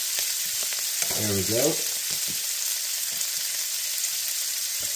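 Diced onions sizzle in a skillet with ground beef, a loud steady frying hiss throughout with brief stirring scrapes, and a person speaks briefly over it.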